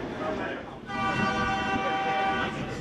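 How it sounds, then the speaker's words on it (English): A Puno to Cusco passenger train in Peru sounding its horn as it departs through city streets, a sustained tonal blast starting partway in and holding steady over rumbling rail noise, with voices faintly in the background. "Departure is quite noisy as we head along the streets."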